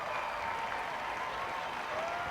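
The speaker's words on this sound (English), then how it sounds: "The record crowd on their feet." Stadium crowd cheering and applauding on its feet after a home soccer win, a steady, dense wash of distant claps and cheers with no talk over it.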